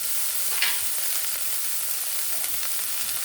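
Food frying in ghee: a continuous, even, hissing sizzle held close, with a brief crackle early on and no voices.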